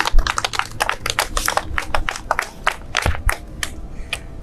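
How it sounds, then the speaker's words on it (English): Brief round of applause for volunteers at a mayors' donation event for a food bank: scattered, uneven hand claps from a modest crowd, fairly close and lively, no talking over them. "Let's hear a round of applause for the volunteers that come every single week."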